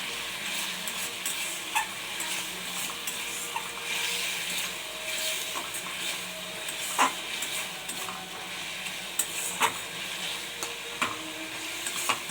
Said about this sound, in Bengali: এটাকে একটু ভালো করে কষিয়ে নেবো